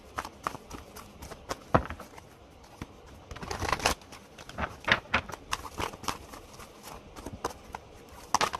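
Tarot cards handled close up, with a steady run of crisp shuffling snaps and soft paper taps, a few sharper slaps standing out, and no talking.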